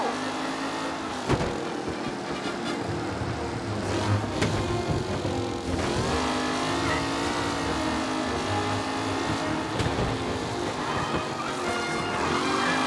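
Race cars in Mafia: Definitive Edition during a race mission, with several engines roaring and revving in a steady drone that rises and falls as cars pass, plus occasional thumps, loud throughout.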